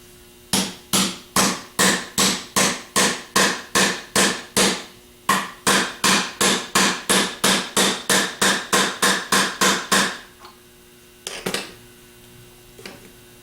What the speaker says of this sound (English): Tap it down in with the wooden part of the hammer handle.